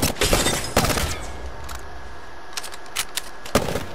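Prowler SMG firing in the Apex Legends shooter game, a few clustered bursts of rapid shots at the start and end with quieter gaps between, fairly close and without talk.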